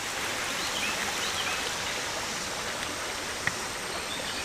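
A creek flows steadily as broadband outdoor water noise at a fishing spot, a constant even rush with no pauses and no voices, plus one brief faint tick near the end.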